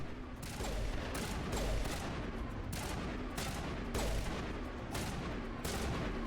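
Sustained gunfire in Mass Effect 1 Legendary Edition: a steady run of loud, evenly spaced shots roughly every half second, some booming, continuing throughout without any voices.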